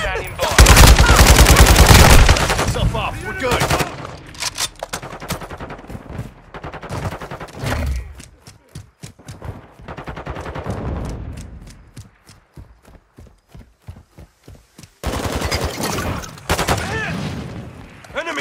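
Rapid automatic gunfire and heavy bursts fill a Call of Duty: Modern Warfare II firefight, loud and dense at first, then thinning to scattered sharp shots before a final loud volley.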